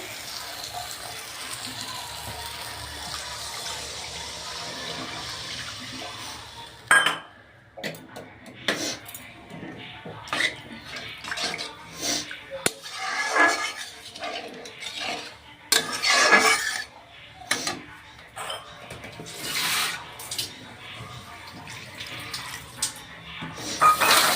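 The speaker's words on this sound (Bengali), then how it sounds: "তো এখন আমি জল দিয়ে দেবো পরিমাণ মতো" Water poured from a tap-like stream into cooked masala in a pan for a Bengali rohu fish curry, followed by clattering and stirring, close and fairly quiet.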